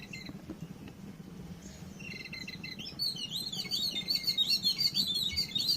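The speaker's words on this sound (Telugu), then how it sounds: "పిట్టలు కూడా కేకి ఎగురుతాయి" Birds chirp and tweet in quick repeated bursts over a low steady rumble, growing busier and louder in the second half.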